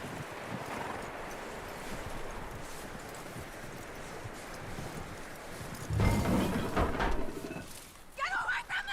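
A horse's hooves clip-clop steadily in Red Dead Redemption 2, set against wind and outdoor ambience, with a louder burst of movement and voice-like sounds toward the end.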